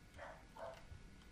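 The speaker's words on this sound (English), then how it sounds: "Sorry about the dog." Two short barks from a dog in the video game Life Is Strange, about half a second apart, moderately faint over a low background hum.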